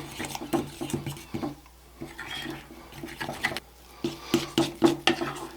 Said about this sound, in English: we're just going to mix these together into a loose dough